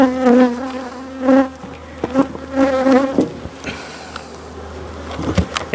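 Honeybees buzz loudly and steadily around hives opened during spring colony division, a dense insect drone with swelling bursts and a few clicks and knocks of hive handling, no voices.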